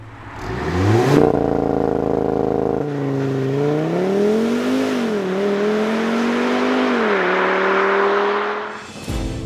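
An Audi RS3's 2.5-liter TFSI five-cylinder engine fires up with a rising rev, then holds a loud, throaty drone that swells and dips before cutting off.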